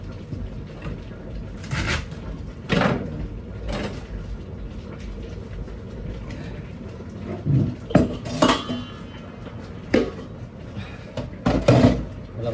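Pots, dishes and cutlery clatter and clink in a home kitchen sink while being washed, with irregular knocks and scrapes and a steady wash of running water underneath; bursts grow busier toward the end.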